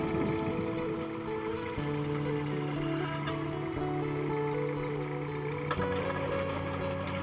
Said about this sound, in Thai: เราต้องพวนดินให้มัน ละเอียดละเอียดค่ะรถไถมาพวน